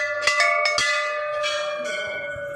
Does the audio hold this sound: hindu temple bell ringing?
yes